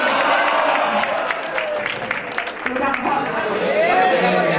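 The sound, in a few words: audience applause from those standing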